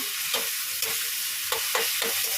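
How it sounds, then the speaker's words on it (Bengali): Chana masala sizzles in a pan, being fried with spices but no ginger, onion or garlic. A steady hiss runs throughout, broken by several rhythmic stirring scrapes. "দেখো এখানে চানার মশলাটা কষাচ্ছি কিছু দিইনি আদা পেঁয়াজ রসুন"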